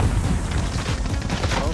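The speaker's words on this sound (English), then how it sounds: "they're shooting at me" Video game gunfire rattles nonstop in dense, loud bursts of shots and booms that fill the whole stretch with no break.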